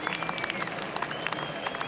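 Applause and cheering from a crowd at an IndyCar race on a 1.5-mile egg-shaped oval in Japan, steady distant clapping with scattered sharper claps and a faint steady tone beneath.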